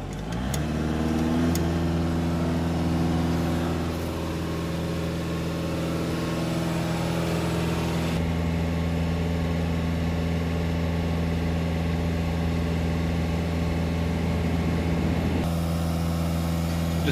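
Audi A6 Ultra 2.0 TDI diesel engine with a particulate filter fault, held at raised revs by a pedal depressor, giving a steady, even, close-up drone that settles after a brief rise at the start.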